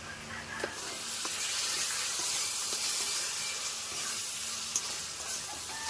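Spices for mutton curry, with coriander powder, chili powder, turmeric and salt, fry in oil with a continuous close hiss and sizzle. A few faint clicks and stirring knocks sit over it, and no one talks.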